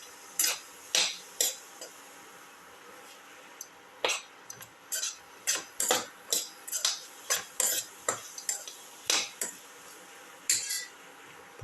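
A spoon scrapes and clinks against a pan as potato and snake gourd are stirred, sharp irregular knocks repeating over a faint sizzle, close and fairly loud, with no talking.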